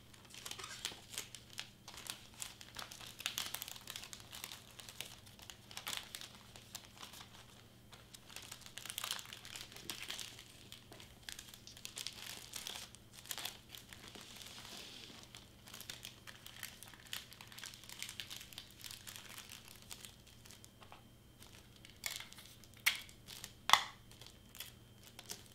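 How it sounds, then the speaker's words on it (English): Wrapping paper on a gift being handled and taped shut, with faint, scattered crinkles, rustles and small tape pulls and taps at low volume throughout; no talking. "Okay, so I'm gonna tape this side to close it up."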